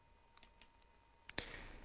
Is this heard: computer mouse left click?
yes